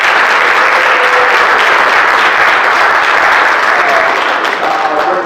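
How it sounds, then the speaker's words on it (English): An audience gives Matt Stevens a round of applause at a fathers' conference, a steady, loud wash of clapping that holds evenly for several seconds. "I want to really give Matt Stevens a round of applause"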